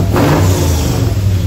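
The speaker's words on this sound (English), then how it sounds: "I love that sound when you get off of the straight throttle body," Car engine revving hard through a stack ejector exhaust, a loud, steady, close roar with a deep low drone held throughout.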